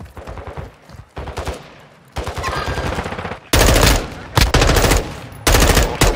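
Machine gun fire in the Call of Duty Warzone 2.0 DMZ video game, several loud, rapid bursts of automatic fire at close range, growing heavier toward the end.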